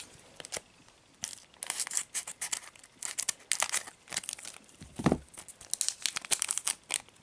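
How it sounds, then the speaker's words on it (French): A Japanese Pokémon card booster pack is ripped open by hand, giving quiet crinkling foil and sharp tearing bursts in an irregular rhythm, close up and with no talk. "Donc nous allons ouvrir le dernier booster."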